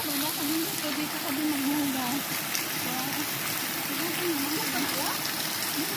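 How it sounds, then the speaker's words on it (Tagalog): Stream water flows along a hiking trail in Tai Tam, Hong Kong, a constant soft rushing babble beneath people talking nearby. "may tubig"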